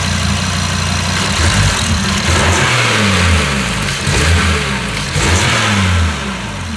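Audi TTRS/RS3 five-cylinder engine with the stock intake box, revving repeatedly from idle in loud, rising and falling pulls, close and continuous with no talk.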